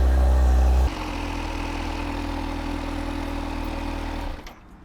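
Kawasaki Z H2 motorcycle engine idling to warm up, a steady close rumble that drops slightly in level after the first second and fades near the end.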